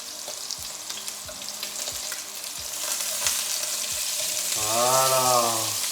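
Sausages frying in a pan for rougail saucisse give a steady sizzle with regular soft knocks, then a brief running-water sound near the end, all close by.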